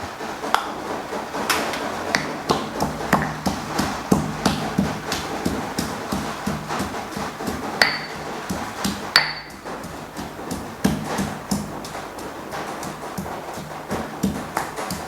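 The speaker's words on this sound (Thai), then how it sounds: "เราจะสับประมาณนี้พอนะครับ พริกกระเทียมนะครับ" A knife chops chili and garlic on a cutting board, steady rapid strikes repeating close and clear with no talk.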